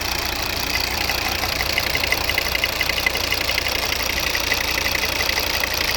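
A 2.0-litre D4 diesel engine in a 2011 Volvo V60 chugs steadily with its oil filler cap open, a rough, rapid knocking rhythm, loud and close, running without change throughout.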